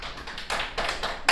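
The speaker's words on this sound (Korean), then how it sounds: "왜 박수 치고 그래" Students in a first-year high school math classroom give a short burst of clapping: a few sharp, close claps in quick succession that build into a brief flurry, with no talk.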